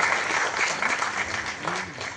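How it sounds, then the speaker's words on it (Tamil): Steady applause from a seated audience at a Tamil film music launch event, dense clapping sustained throughout at even loudness. "பலத்த கரகோஷம் கொடுங்க"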